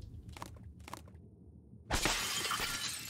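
Glass shatters loudly in the video game Prey, a sudden broadband crash that trails into a lingering tinkle and hiss after two soft earlier knocks.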